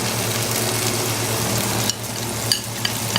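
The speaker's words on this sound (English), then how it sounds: "Once you think the garlic and ginger is a little bit cooked, the main ingredient comes in is the tomato" Garlic and ginger frying in a pan for pav bhaji: a dense, close sizzle runs throughout, broken by a few sharp utensil scrapes and clicks near the end.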